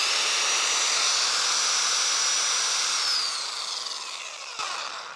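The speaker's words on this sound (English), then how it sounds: "Let's see if a drill works." An electric drill runs on power from an Alpha ESS AP1000 portable power station, a steady high whine held for about three seconds before it winds down and fades, with a faint click near the end.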